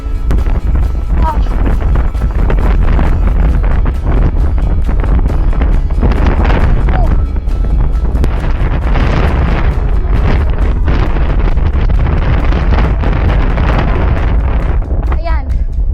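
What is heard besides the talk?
strong wind blowing on microphone while cycling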